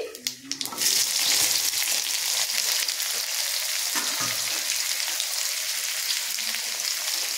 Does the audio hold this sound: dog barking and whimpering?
no